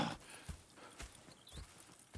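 Steady clip-clop of horse hooves on a hard surface in the video game Red Dead Redemption 2, several evenly spaced footfalls at a walking pace, fairly quiet, with a faint whinny partway through.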